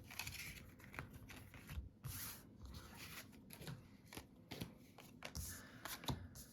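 Magic: The Gathering cards from a red-white sealed deck being laid out on a table, giving soft repeated card slaps and shuffling rustles at an uneven rhythm, close and fairly quiet.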